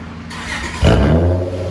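A loud, raspy 2000 Honda Accord V6 straight-pipe exhaust roars close up, jumping suddenly from a steady rumble into a heavy, throaty rev.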